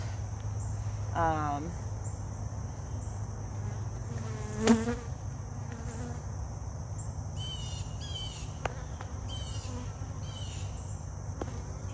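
Steady honey bee buzzing hums throughout at a hive, with a few faint bird chirps and a brief soft voice in the background.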